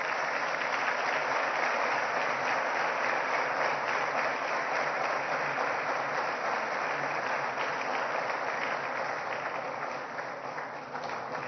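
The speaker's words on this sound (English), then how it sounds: "Can you give him a warm round of applause?" A live audience at a Lagos governorship debate gives a warm, steady round of applause for the convener, a continuous clapping wash that holds for about ten seconds and then begins to fade.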